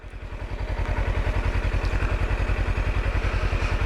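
A Kawasaki motorcycle engine idles close by, giving a steady, rapid, even thumping pulse that holds at a constant level throughout.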